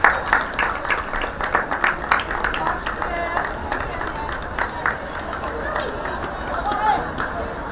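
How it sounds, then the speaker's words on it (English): Scattered clapping from players of both sides at a women's rugby league match, Wakefield Trinity against Widnes Vikings, as an injured player leaves the field, with voices and commentary talking over it. "A round of applause from both sets of players"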